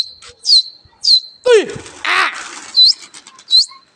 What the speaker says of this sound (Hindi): तो दोस्तों देखो, सारे कबूतर उड़ गए।